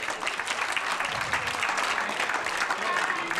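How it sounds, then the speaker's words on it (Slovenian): A studio audience at a Slovenian TV game show breaks into applause, dense, steady clapping filling the room throughout. "Aplavz."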